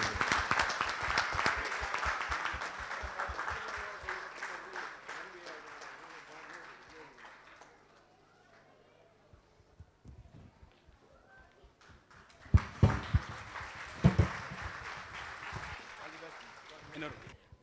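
An audience at a ceremonial opening event claps with broad applause that fades away over several seconds, goes quiet, then returns with a few louder, sharper bursts, while a voice speaks over parts of it.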